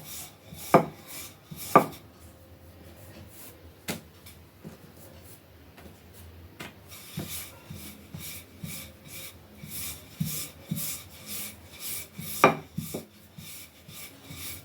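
A rolling pin works thick dough for crisp golden-brown tea-time snacks, giving soft wooden rubs and a few sharper knocks against the board, close and quiet, with long stretches of faint scraping.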